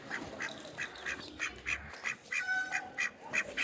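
Farm ducks quack in a rapid run of short nasal calls, repeated in an uneven rhythm, fairly close and clear over quiet background, with no one talking.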